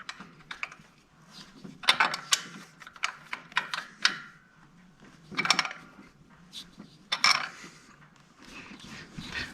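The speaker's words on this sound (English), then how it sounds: "I'm just tightening them basically as tight as I can get them with this wrench" A hand wrench ratcheting as it tightens turbo bolts on a Dodge Cummins diesel engine, with clustered clicks in short bursts and pauses between them, close and fairly loud.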